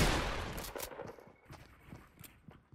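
Gunfire in the video game Fortnite comes as a rapid burst of sharp shots at the start, followed by fainter scattered cracks and thuds.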